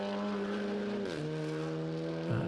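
A TCR touring race car in the Supercar Challenge at Circuit Zolder holds a steady, loud engine drone, with a gear change about a second in and another shift near the end.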